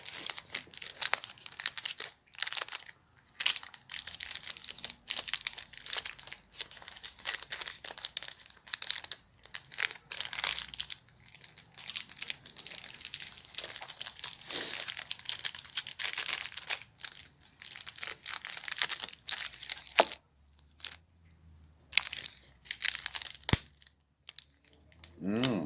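Chocolate snack packets being repacked, giving a long run of close, loud crinkling and crumpling plastic wrappers with rapid irregular rustles and a few brief pauses, with faint voices now and then.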